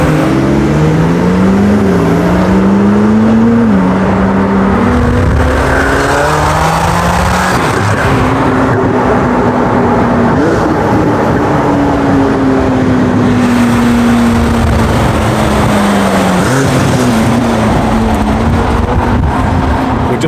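A BMW 1M driven alongside other cars, its engine roaring loudly and continuously with rising and falling revs and crackling exhaust pops throughout about twenty seconds, with no speech.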